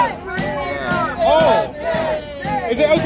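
Protest crowd in Parliament Square, London, at a rally over the Assisted Dying Bill, a dense babble of many voices with rising shouts and chanting, loud and close, steady across the clip.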